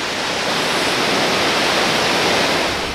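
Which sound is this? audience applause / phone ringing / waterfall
waterfall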